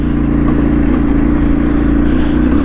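A vehicle engine labouring uphill in second gear on a forest road, a loud, steady mid-pitched drone that holds constant through the whole stretch, close and unbroken.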